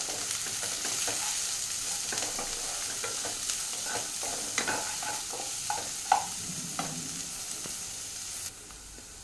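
Beans and vegetables for Schezwan fried rice are stir-fried in a hot pan, a steady close sizzle broken by scraping and clacking from a spatula as they are tossed.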